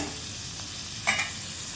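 Dried fish (loitta shutki) fries in a pan, a soft continuous sizzle with one brief louder scrape or clink of stirring midway.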